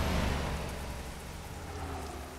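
Steady rain in an Indian bus driving simulator game, a continuous hiss over a low rumbling bus engine, with no talk.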